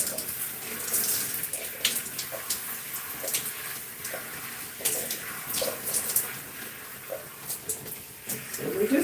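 Tap water runs steadily while hair is rinsed of conditioner, with splashing bursts and intermittent gushes close by and no talking.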